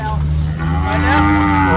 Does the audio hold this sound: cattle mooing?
yes